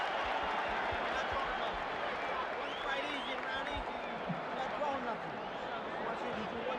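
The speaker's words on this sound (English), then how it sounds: "The crowd is really juiced up." A dense, roaring boxing arena crowd cheers continuously, loud and close, with a commentator talking over the steady wall of noise at the end of round one of Mike Tyson vs Larry Holmes, January 1988.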